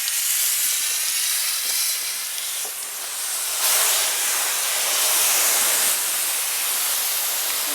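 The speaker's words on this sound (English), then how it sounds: "just rinse it off." A water hose sprays steadily against a boat hull during rinsing, a continuous broadband hiss that swells louder midway and holds, close and without talk.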